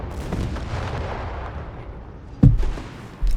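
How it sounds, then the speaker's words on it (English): In Company of Heroes 3, a Panzer V tank takes hits amid battle noise, with a low rumble of distant fire followed by one sharp heavy impact and a second boom shortly after. "Panzer V taking hits"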